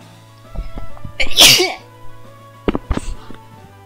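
A single loud, close sneeze bursts out, preceded by a sharp inhale, followed by a short breathy exhale and brief noises.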